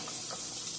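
Garlic sizzling in a frying pan with onions, a brief soft hiss of frying, steady and fairly quiet, alone without voices.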